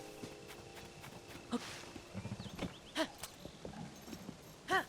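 A harnessed horse in the game Tears of the Kingdom gives soft, scattered hoof clops and a few faint snorting sounds over a quiet background.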